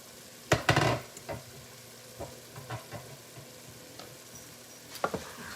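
Vegetables for a stuffed kabocha squash sizzle gently in a pan with broth, broken by a few sharp stirring scrapes and clacks near the start and end, quiet and close with no talking.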